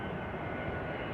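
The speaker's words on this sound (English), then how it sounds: "After that, an EasyJet A320 inbound from Milan." An EasyJet Airbus A320 landing at Amsterdam Schiphol, its jet engines a loud, steady, broadband roar close by with no other sound.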